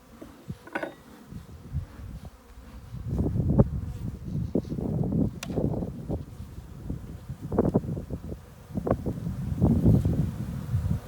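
Honeybees hum and buzz from an opened backyard hive, a low steady drone with brief bursts as individual bees pass close, mixed with occasional wooden clicks and scrapes from a hive tool.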